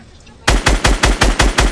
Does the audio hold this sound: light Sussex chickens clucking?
no